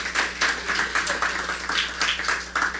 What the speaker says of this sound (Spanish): Dale un aplauso al Señor que vive y reina para siempre.